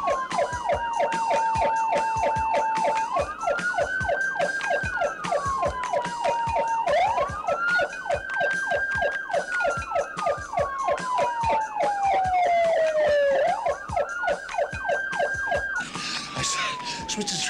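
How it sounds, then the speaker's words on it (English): A car siren, heard in a 1979 hot rod film, wails close and loud in repeated rising and falling sweeps over a rapid rattling pulse and road noise throughout. "I was wanting me a siren."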